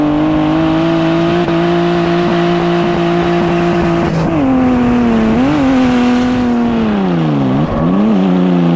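A drift car runs at full throttle through a SoDRIFT 2024 final-round competition pass. Its loud, close engine holds a steady drone, then the pitch drops, swoops and rises again as the car transitions, with tire noise underneath.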